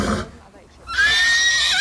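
A horse whinnies loudly in a high, wavering neigh that rises and holds over the second half, following a brief moment of speech and a quiet gap.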